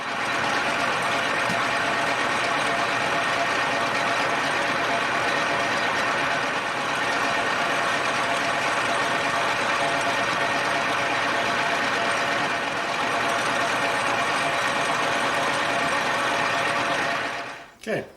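DIY lathe cutting threads, a continuous dense mechanical whir and grinding hum held steadily at close range, stopping abruptly just before the end.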